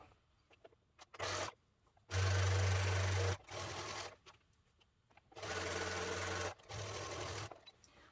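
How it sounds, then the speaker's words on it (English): Sewing machine stitching a half-inch seam along the top of a fabric gift bag, running in several loud steady bursts separated by short pauses, close and with no talk. "I got my machine ready. I'm just going to sew right along this top with that 1/2 inch seam allowance"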